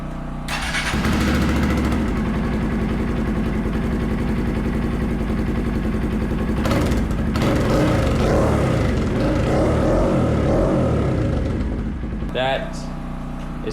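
Honda Grom motorcycle fitted with a Zoom Brute aftermarket exhaust starts up and idles with a loud, close, throaty putter, then gives a few revs before cutting off near the end.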